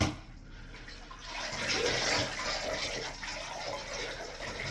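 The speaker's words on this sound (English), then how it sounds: "Just rinse it out again." Water gushing from a tap while a dirty mop is rinsed out indoors after mud was tracked in, a loud continuous rushing that swells and stays steady, with no speech.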